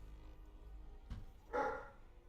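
A dog wanting attention lets out a faint bark and a short yip in the distance, heard over quiet background hum with no talking.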